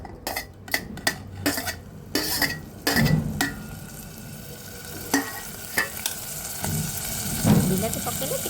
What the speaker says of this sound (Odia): ବିଲାତିକୁ ଫ୍ରାଏ ହେବ ଏବେ ଟିକେ, ପିଆଜ ସହିତ ଭଲକି ସେ ଫ୍ରାଏ ହେଲା ପର୍ଯ୍ୟନ୍ତ